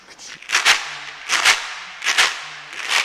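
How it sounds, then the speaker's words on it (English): Shekere gourd shaken so its bead net strikes the shell, four crisp rattling bursts in a steady rhythm, close and moderately loud with no talking. "this is the sound of the beads hitting the shell"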